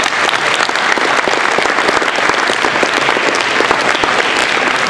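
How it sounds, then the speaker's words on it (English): A high school audience at a Clear Lake High School anti-bullying assembly bursts into loud, dense, steady applause that fills the whole stretch with no pause. "Give a round of applause."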